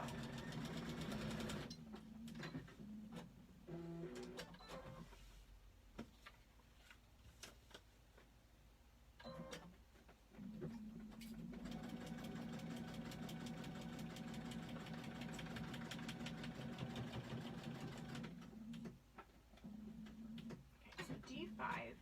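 A sewing machine stitches pinned quilt block pieces in several bursts of close, steady motor hum, with quieter pauses between runs; a person talks alongside.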